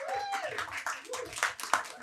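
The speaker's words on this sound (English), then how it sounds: "Big applause." An audience at a Design Systems London meetup gives a short burst of applause for a speaker taking the stage, moderately distant clapping heard under a voice.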